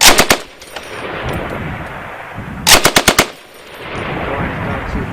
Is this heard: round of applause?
no